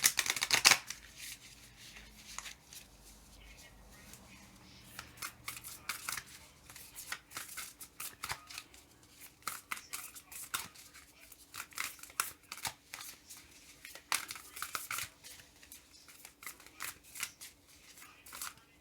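Tarot and oracle cards are shuffled by hand in a quiet room, giving soft, repeated riffling and flicking bursts that come and go in an irregular rhythm over a low steady hum.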